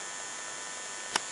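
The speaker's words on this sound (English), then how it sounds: "This charger keeps normally that kind of sounds like this" Steady low electrical hum from a car battery charger delivering about 1 amp while charging a car battery, faint and constant, with one brief click near the end.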